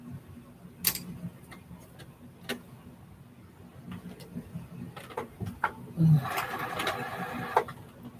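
Sewing machine stitching star quilt blocks, quiet scattered ticks and short stitching bursts, with a denser run of stitching toward the end.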